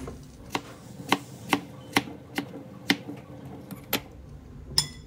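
A knife cutting thin slices of apple on a board, giving about nine crisp evenly spaced taps close by, with no talking.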